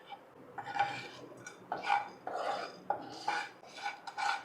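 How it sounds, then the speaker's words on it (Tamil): A spoon scrapes and clinks against a pan while spices are stirred and dry-fried on a low flame for Malabar mutton curry. The metallic taps and scrapes come in short, fairly quiet bursts. "சிம்மில் வச்சுட்டு கொஞ்சம் ஒரு 2 நிமிஷத்துக்கு நம்ம ஃப்ரை பண்ணி எடுத்துக்கலாம்."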